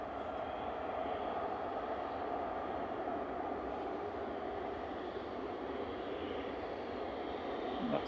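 A plane roars steadily on the runway at Manchester Airport, a continuous broadband engine rush holding at an even, fairly loud level throughout with no speech over it.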